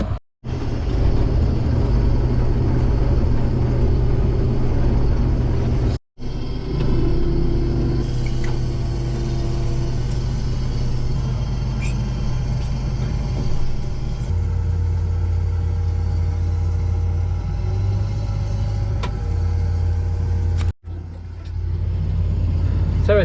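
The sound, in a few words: combine harvester harvesting barley in the paddock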